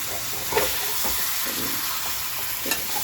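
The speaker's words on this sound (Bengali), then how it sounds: "এই একটু গরম জল দিয়ে দিলাম।" Hot water goes into a yogurt-based curry simmering in a pan, producing a constant hissing bubble with a few sharp utensil clicks near the start and end.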